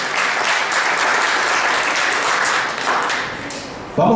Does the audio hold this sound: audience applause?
yes